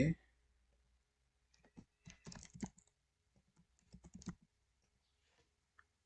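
Computer keyboard keys pressed in a few short clusters of clicks, as in a Ctrl+V paste while editing a PHP password page, with quiet gaps between bursts and no talking.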